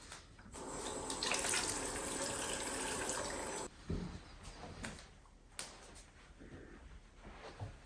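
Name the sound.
water running while rinsing face after cleansing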